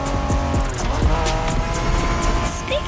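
A Honda NSX races in The Crew Motorfest on PS5, its engine loud and high-revving with shifting harmonic whine, tire squeal and skidding, continuous and close with no voices.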